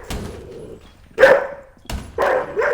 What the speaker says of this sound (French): c'est un chien méchant, là.